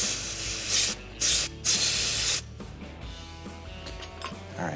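Refrigerant gas purges through a charging line from a tank during a Whirlpool refrigerator repair, with three loud, close bursts of hiss followed by a softer, continuing rush.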